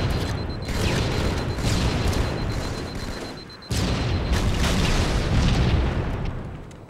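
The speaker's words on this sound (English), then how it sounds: "And Ben just shot my grenade." Grenade blasts in a Halo 2 two-versus-two multiplayer match: a loud, dense booming roar that swells, drops off briefly, then bursts again and rumbles on before fading.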